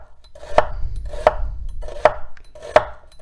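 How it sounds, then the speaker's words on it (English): A kitchen knife thinly slicing an onion on a cutting board, four crisp, evenly spaced chops close up, each a sharp crunch with a soft thud beneath, no voices. "typically slice my onions, now I like them super thin"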